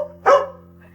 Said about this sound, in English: This is a dog that she's adopted, and the dog had probably been in the bathroom for days.